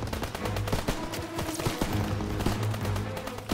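Rapid gunfire from Call of Duty: WW2 during a World War II hill assault, dense overlapping shots and machine-gun bursts rattling continuously at close range.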